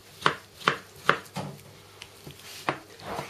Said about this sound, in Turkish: Şimdi domatesimizi, soyduğumuz domatesimizi doğrayarak